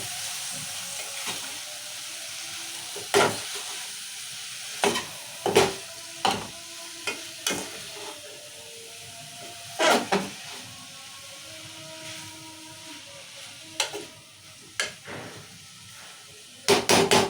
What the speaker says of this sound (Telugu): ఉడకబెట్టిన గోకరకాయ వేసాం కదా, కలుపుకుందాం ఒకసారి